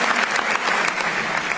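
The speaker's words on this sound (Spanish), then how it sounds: "Fuertes aplausos a nuestro Dios" A church congregation applauds in praise, steady loud clapping from many hands that holds without a break, close and dense, with no talk over it.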